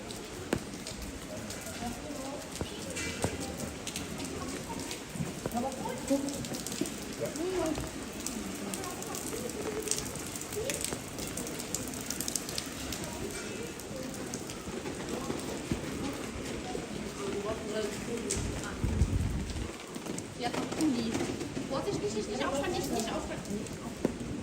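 Steady rain falling in the narrow alleyways of Genoa's historic center, a continuous hiss and patter on the surfaces, with footsteps and voices mixed underneath throughout.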